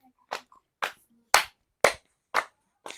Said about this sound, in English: So we're going to clap.